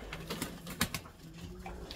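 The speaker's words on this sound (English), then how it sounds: "Some really nice pigeons in that lot this year." Racing pigeons cooing in a loft, soft repeated coos and rustling close by, with no talk.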